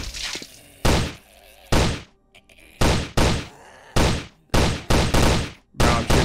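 Gunshots from shooting in the video game Invention 3, a Left 4 Dead–style zombie shooter, ring out as loud, close single blasts in an irregular rhythm, about ten shots with brief quiet gaps between them.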